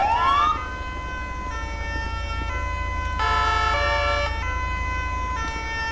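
An ambulance siren in a police patrol game sounds steadily throughout, a loud electronic wail with shifting tones over a low engine rumble, growing somewhat stronger midway as the vehicle approaches.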